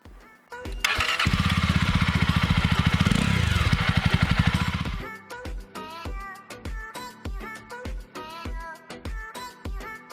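A Jawa 42 motorcycle engine cranks and fires up, revving loudly and steadily for a few seconds, then settles into a rhythmic idle.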